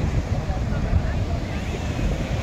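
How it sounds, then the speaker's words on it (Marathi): Steady roar of ocean surf at Marina Beach, Chennai, mixed with heavy wind buffeting the microphone, a continuous loud wash with no distinct breaks. "आणि हे बघा ह्या लाटा जे आहेत बापरे"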